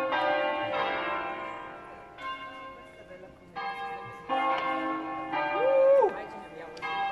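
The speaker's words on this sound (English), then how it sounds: "let me hear the bell." A church bell on an Italian mountainside rings loudly and clearly in several separate strikes, each tone ringing on before the next, with a voice heard briefly among them.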